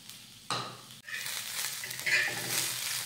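Chopped onion, ginger and garlic sauté in a pan for matar paneer, a soft sizzle broken by a sharp stirring scrape at the start, then a steadier frying hiss with light utensil clinks, fairly quiet and close.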